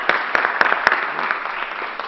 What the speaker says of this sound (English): I'm going to give you an extra round of applause for everything you've done.